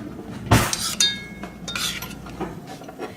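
A metal spoon clinks sharply against dishware while a butter-topped chocolate peppermint cheesecake with Biscoff crust is served, a loud strike followed by a few lighter clinks and scrapes, with no talking.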